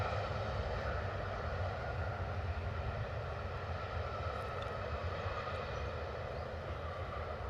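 A Ryanair jet rolls out after landing with reverse thrust, a steady broadband engine roar that holds loud and even throughout with no voices.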